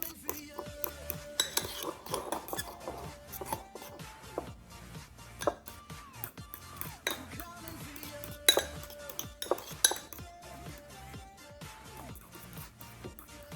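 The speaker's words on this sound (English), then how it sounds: "So all the ingredients are combined. I'm just mixing it." A spoon mixes banana mug muffin batter of flour, almond milk and banana inside a ceramic mug, giving repeated light clinks and scrapes against the mug, close and quiet, with no talking.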